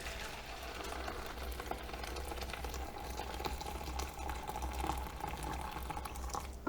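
Steady churning bubble and hiss of kettle-boiled water at a rolling boil in a pot, continuous and fairly close, with a low rumble underneath and no voices.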